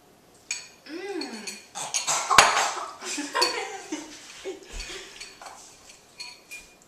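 Cutlery scrapes and clinks against dishes while macaroni and cheese is eaten at home, with a sharp metallic clink midway and smaller taps scattered throughout, as people talk between bites.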